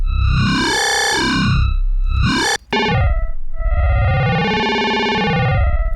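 A buzzy, distorted FM8 synth saw-wave growl bass tone with added upper harmonics sweeps and growls, its harmonics bending up and down in pitch, loud and alone with a brief gap midway.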